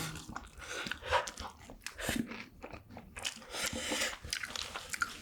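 Crunchy bites and chewing on a whipped cream waffle, several close, crisp crunches spread unevenly over a few seconds with wet chewing between them and no talk.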